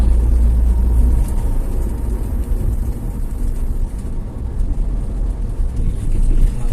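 Toyota Avanza 2011 engine cruising in fifth gear, a steady low rumble of engine and road noise from inside the cabin, continuous and fairly loud with no talk.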